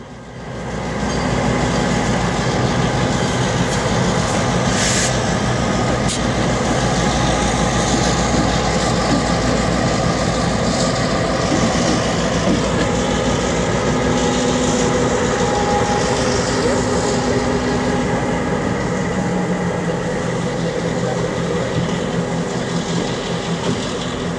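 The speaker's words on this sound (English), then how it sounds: "the train heads onto the spur to head back to the refrigeration plant to tie up for the day" A Santa Cruz and Monterey Bay Railway train with locomotive 1102 rumbles past near La Selva Beach and heads onto a spur toward a refrigeration plant, a continuous loud roar with rattling cars and wheel clatter throughout.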